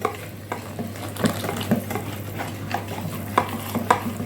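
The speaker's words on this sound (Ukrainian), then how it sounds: "Тепер легесенько поколочуючи, ось так перемішуючи, ми будемо вливати нашу цю суміш." A mixture for rose-shaped buns is stirred and whisked in a bowl, with a steady wet scraping and sloshing and occasional sharper clinks of the utensil against the side, close and continuous with no talking.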